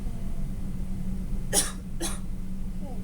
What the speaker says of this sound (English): take a deep breath and cough.